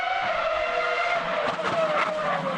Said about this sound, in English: rev up your engines and get out onto the circuit